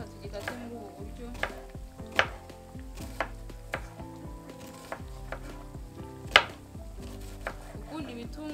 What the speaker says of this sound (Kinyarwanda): reka tube dukata igitunguru